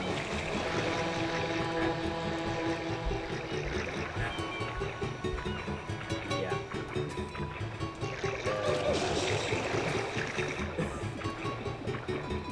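A steady engine drone with churning, splashing water runs continuously as a boat circles an island in Super Mario Sunshine, loud and close, with a light musical tone underneath.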